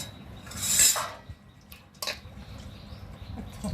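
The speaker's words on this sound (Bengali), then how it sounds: "ভালো জল দিয়ে না ধুলে কেমন একটা লাগে না, তার জন্য এবার আমি ভালো করে ধুয়ে নিচ্ছি।" A dinner plate rinsed under water, with a loud splashing wash early on, a sharp clatter of the plate around the two-second mark, then softer drips and handling noises close by.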